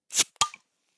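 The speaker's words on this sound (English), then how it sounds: "cracking open a bottle" A beer bottle cracked open: two quick, close sounds, a sharp hiss-like burst followed a moment later by a crisp pop, then silence.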